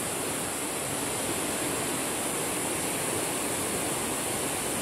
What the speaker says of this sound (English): This is the Sarapiquí River.